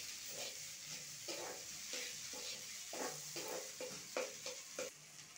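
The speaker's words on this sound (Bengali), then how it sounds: "আর এই পরিমাণ মতো হলুদ দিয়ে ভালো করে আলুটা নাড়িয়ে নেব।" Diced potatoes with turmeric and salt stirred in a pan, a quiet soft sizzle broken by repeated rhythmic scraping strokes of a spoon, close and faint.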